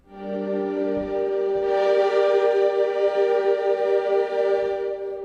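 An Evo drone grid from the Spitfire Solstice sample library, a sustained, evolving orchestral drone that swells slightly and holds steady, rich in layered harmonics, with no voices.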